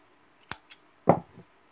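Scissors snip through crochet yarn, two short crisp cuts a moment apart, close and clear against near silence.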